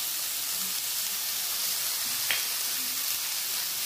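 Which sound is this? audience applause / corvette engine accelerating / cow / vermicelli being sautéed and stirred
vermicelli being sautéed and stirred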